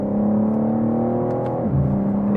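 Simulated BMW M3 Touring engine in BeamNG.drive, a steady loud drone with a tonal whine that drops in pitch near the end as the revs change, no talking over it.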